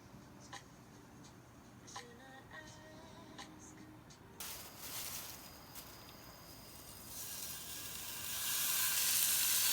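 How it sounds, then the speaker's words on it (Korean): Pork belly frying in a pan at a campsite, heard as a soft hiss that grows into a louder, steady crackling sizzle, with light clinks early on and no talking. "얼마 만에 팬에 굽는 삼겹살이야?"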